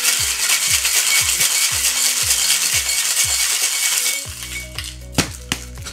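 Cocktail with ice shaken hard in a metal shaking tin for a Mai Tai, a steady rapid rattle of about nine rhythmic strokes, then the tin cracked open with clinks and a pour.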